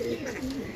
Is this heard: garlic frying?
no